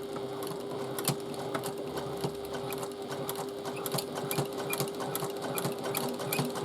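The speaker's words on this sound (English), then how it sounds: "I'm going to stitch on the top side, on the outer side rather than the lining side, just so that I know it's a neater finish." A sewing machine stitches the top side of a tote bag with a short stitch, a steady rapid mechanical whirring and ticking at close range, running continuously with no talking.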